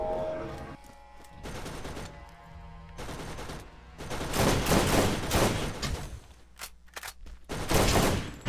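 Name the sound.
gun firing in Borderlands video game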